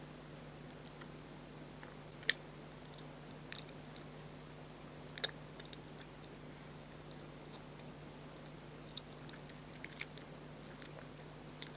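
Close, quiet chewing of sticky throat sweets, with soft sporadic clicks and wet mouth sounds over a faint steady hum.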